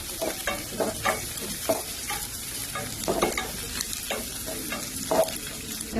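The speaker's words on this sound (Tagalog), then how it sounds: "Pagkatapos natin igis ng sibuyas bawang" Onion and garlic, added after ginger, sauté in a pan for a siomai soup, giving a steady close sizzle broken by repeated stirring scrapes and clatters of the utensil against the pan.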